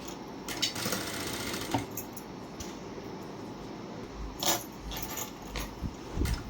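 A sewing machine runs steadily along a blouse shoulder seam, its fast, dense stitching rattle continuing close and fairly loud throughout, with a few brief clicks and louder bursts.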